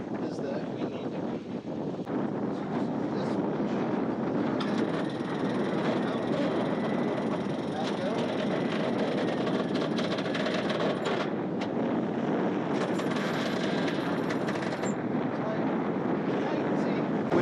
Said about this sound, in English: we've got wind right here